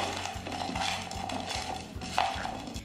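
Pointed gourd (potol) pieces are rubbed and tossed with salt in a bowl, giving a steady scraping, clinking rustle with small knocks against the bowl, close and moderately quiet, with no talk.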